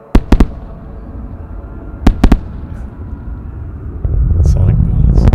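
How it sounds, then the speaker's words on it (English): Sonic booms from two SpaceX Falcon Heavy side boosters landing almost together at night, sharp loud cracks in quick double and triple groups, then a rising rumble, with people talking and reacting nearby. "Sonic booms. Shake the camera."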